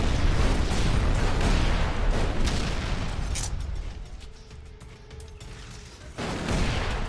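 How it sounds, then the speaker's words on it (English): Grenade blasts in the video game ELEX II, a dense roar of booming explosions filling the first few seconds, dropping to a lower rumble with a faint tone before another burst near the end. "They're throwing grenades."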